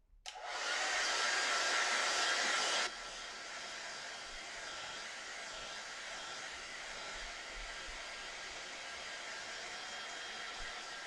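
A hair dryer blows on a watercolour painting, switching on loud with a steady rushing whoosh, then dropping to a lower, softer setting and running on evenly with no talk.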